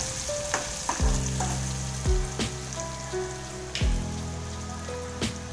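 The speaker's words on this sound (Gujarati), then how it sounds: "તેને આ રીતના આપણે હવે હલાવી લઈશું." A spoon stirs a sizzling eggplant mixture for Kathiyawadi ringan no olo in a hot pan, making a steady frying crackle punctuated by several distinct scraping knocks against the pan.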